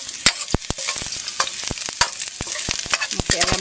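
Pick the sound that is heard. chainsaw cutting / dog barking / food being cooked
food being cooked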